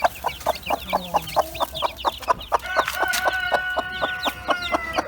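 Chickens cluck in a steady run of short, repeated calls close by, with one bird holding a longer sustained note partway through; a small flock of bantam-type hens with young chicks.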